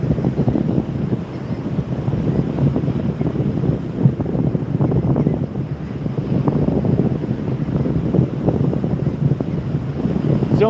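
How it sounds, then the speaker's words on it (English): Strong offshore wind buffeting the microphone on a beach at Tybee Island, Georgia, a continuous loud rumbling roar mixed with crashing surf and no talk. "the wind is blowing straight from offshore at me, so it turns the waves up even more"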